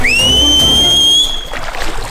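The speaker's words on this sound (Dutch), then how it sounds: "Komen ze wel? Ik ga fluiten, ja?" A person on open ocean whistles to attract a boat, one long loud sustained whistle rising at the start and holding steady before cutting off into wind and water noise.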